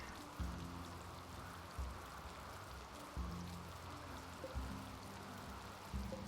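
Rain falling in the colony-building game Rimworld, a soft, steady patter and hiss with low musical tones pulsing beneath at regular intervals, faint and without voices.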